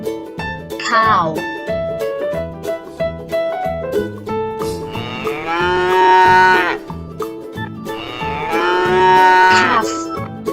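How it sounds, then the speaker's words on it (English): Cattle mooing in a farm setting, a few long, loud harmonic moos rising and swelling, the last two especially drawn out, with shorter lowing calls earlier. "Cow."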